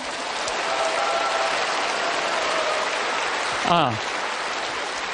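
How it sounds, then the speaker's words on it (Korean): A lecture audience claps continuously in dense, even applause, with a brief voice rising over it near the end. "이거는 제가 박수를 받아야 될 게 아니고"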